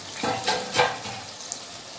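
Garlic cloves frying in a pan for tomato chutney give a soft sizzle with a few brief stirring swishes, close and fairly quiet.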